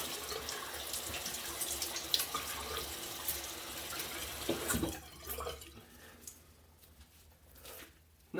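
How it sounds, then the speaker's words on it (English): Tap water running into a sink as a shaving razor is rinsed under it, a close steady splashing hiss that shifts partway through and then stops, leaving quiet. "Let me rinse this off."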